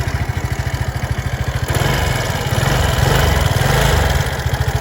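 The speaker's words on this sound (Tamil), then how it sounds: "எக்ஸாஸ்ட் நோட் கேட்கலாம்." Aprilia SXR 160 scooter on its stand, its engine running with a steady, rapid low exhaust putter that thickens slightly partway through, close and loud with no talking.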